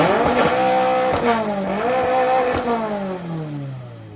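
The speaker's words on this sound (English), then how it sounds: "rev it up a little bit" A Toyota GR86 drift car engine revs up and down repeatedly, its pitch rising and falling through several loud, close blips before a long descending fall-off.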